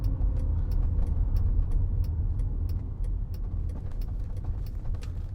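A BMW passes a 2006 Mercedes-Benz SLK280 roadster on the road, heard as a steady, close rumble of engines and tyre noise that carries on without a break, with no voices.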